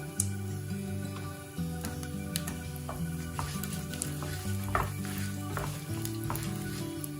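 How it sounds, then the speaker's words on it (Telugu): Chana dal and peanuts roast in a pan on low flame for gongura chutney, giving a continuous soft sizzle dotted with small clicks and pops, over faint steady background tones. "ఇప్పుడు వీటిని లో ఫ్లేమ్లో మాడకుండా వేయించుకోవాలి"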